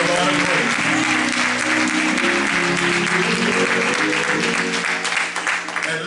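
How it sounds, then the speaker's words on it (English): A church congregation applauds during a pastor and wife's anniversary service, a dense, steady wash of hand clapping that runs loud throughout, with some voices mixed in. "Come on, clap your hands, everybody, give the Lord a praise."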